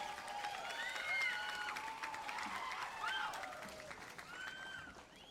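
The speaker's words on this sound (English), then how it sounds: "Give yourselves a round of applause" The Marianas High School Class of 2019 applauds at their graduation ceremony, with clapping and scattered cheers and whoops rising and falling over a few seconds amid crowd noise.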